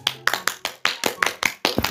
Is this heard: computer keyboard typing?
no